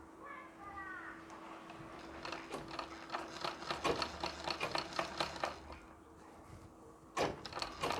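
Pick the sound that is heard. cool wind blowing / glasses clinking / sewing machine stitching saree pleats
sewing machine stitching saree pleats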